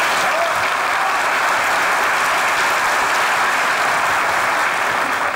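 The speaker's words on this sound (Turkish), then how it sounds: "Hamza'ya bir alkış." A studio audience on a Turkish comedy show applauds for Hamza, a dense, loud, sustained wash of clapping that holds steady throughout with no voices above it.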